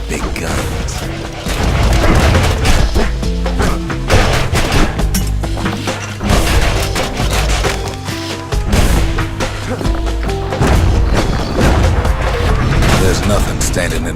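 Heavy weapons pound away in the action game Bastion, with dense, continuous booms and bursts of gunfire layered over music, loud and close for most of the stretch after a brief quieter opening.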